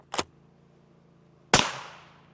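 Two suppressed .308 Winchester rifle shots, fired from a 24-inch barrel with a Phantom M2 suppressor at body armor. A short sharp crack is followed about a second and a half later by a louder report with a fading tail.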